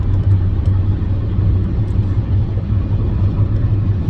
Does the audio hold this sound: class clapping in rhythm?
no